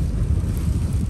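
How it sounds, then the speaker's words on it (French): Strong wind buffeting a parked car, a continuous loud, low roaring rush that fills the whole moment with no break and no voices. "Je peux même pas pousser la porte avec le vent."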